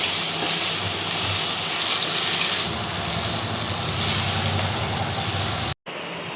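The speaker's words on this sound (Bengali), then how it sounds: "আমি আবারও প্যানে তেল গরম করে" Fish frying in hot oil in a pan, a loud, continuous sizzling hiss that eases slightly midway and cuts out briefly near the end before resuming.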